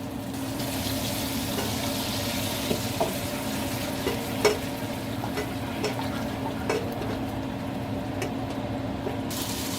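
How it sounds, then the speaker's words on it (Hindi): A cashew, almond and poppy seed paste sautés in a pan for chicken korma, with a low continuous sizzle and a few light spatula taps and scrapes, close and without speech. "इसको भूनेंगे कम से कम 2 मिनट 3 मिनट"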